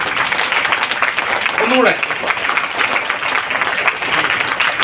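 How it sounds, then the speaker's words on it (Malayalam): An audience claps hands together steadily and loudly in a room, a continuous wash of applause with a voice speaking briefly over it. "എല്ലാവരും നന്നായിട്ട് കൈയടിക്ക്."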